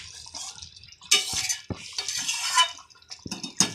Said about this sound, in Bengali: আলতো হাতে নাড়তে হবে।